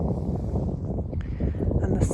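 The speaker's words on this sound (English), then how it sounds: "I thought that I might do some journaling if I can bear the wind, because it is pretty windy." Steady coastal wind buffets the microphone on a windy shore in northern Norway, a continuous low roar lasting throughout with no voices.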